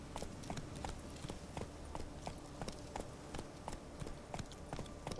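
A horse ridden in The Witcher 3 trots along with its hooves clip-clopping in a steady, even rhythm, faint and continuous with no talk over it.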